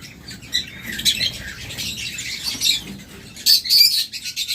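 Pet lovebirds, cockatiels and budgerigars kept in breeding boxes chirp and squawk in bursts close by, with quick rustles and wing flutters scattered throughout.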